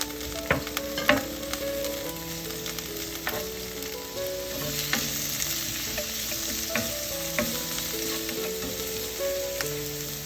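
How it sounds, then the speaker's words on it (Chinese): Carrot slices and scallions are stir-fried in hot oil in a wok, a continuous close sizzle broken by repeated clinks and scrapes of a spatula against the pan, with a faint tonal hum in the background and no talking. "接着加入胡萝卜片， 翻炒一下。"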